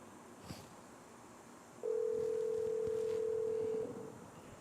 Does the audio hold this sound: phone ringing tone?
yes